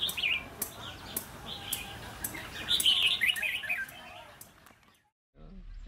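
A red-whiskered bulbul sings in several short, bright chirping phrases. The calls are moderately close but fairly soft over background noise, then stop into near silence near the end.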